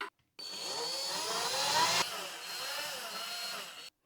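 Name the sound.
screwing a wall sconce mounting bracket to the wall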